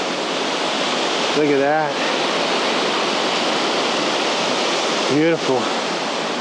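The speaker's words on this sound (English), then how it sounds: "The waterfall actually goes through like a cave" A waterfall on a trail in Albania, plunging through a cave, pours in a loud, unbroken rushing roar, with two brief spoken exclamations on top.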